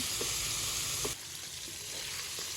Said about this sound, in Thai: กลับมาแล้วทอดต่ออีกสักพักหนึ่งจ้ะ ให้ปลาเขาสุกเหลืองกรอบทั่วกันทุกชิ้น